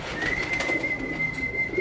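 A pigeon at a loft in Santa Maria, Bulacan coos in a soft, low, continuous murmur close by, with a faint steady whine in the background.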